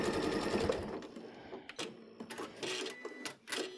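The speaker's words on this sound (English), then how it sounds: "I'm just going to stitch my last couple lines." Sewing machine stitching straight lines across a quilted dish towel, a steady mechanical whir running up close for the first stretch, then breaking into short bursts of stitching with brief pauses between.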